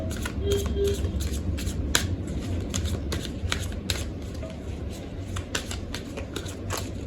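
Oracle card deck being shuffled by hand, a close run of crisp riffling flicks and soft slaps repeating in quick irregular bursts throughout.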